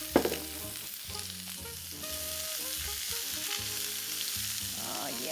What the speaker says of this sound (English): the onion's frying off with the olive oil